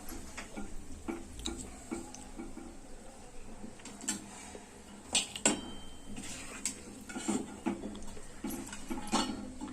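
Fried coconut for Diwali puffed-rice chivda being lifted out of a pan, with repeated close metallic scrapes and taps of a spoon against the pan in an irregular rhythm over a steady low background.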